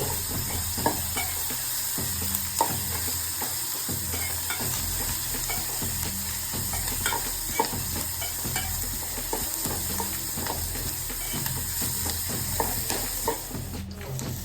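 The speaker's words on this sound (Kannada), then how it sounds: "ಕೆಂಪತ್ತ ಮಟ್ಟ ಹುರಿಬೇಕೀಗ ಈರುಳ್ಳಿ" Onions sizzle in hot oil while being stirred for a bitter gourd palya, a steady bright frying hiss with frequent scraping clicks of the spoon against the pan, close and continuous with no talking.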